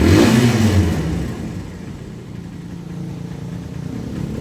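A Kawasaki Barako motorcycle engine, prone to choking after starting, revs loudly at first, then drops to a steady rough idle, close and alone.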